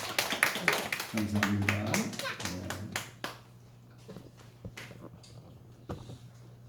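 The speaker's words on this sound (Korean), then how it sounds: "우리 하나님께 박수로 영광 돌리겠습니다." A church congregation claps together during a Sunday worship service, a lively burst of hand claps over a few seconds that fades out, followed by a speaking voice and quieter room sound.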